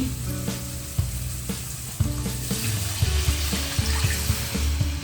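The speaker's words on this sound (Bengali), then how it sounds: "মশলাগুলো আমার ভাজা ভাজা হয়ে গেছে এখন আমি এর মধ্যে জল দিয়ে দিচ্ছি" Water is poured into spices frying in a pan for a tangra fish curry, giving a sizzle and bubbling splash under a low rumbling hum, with several soft knocks along the way.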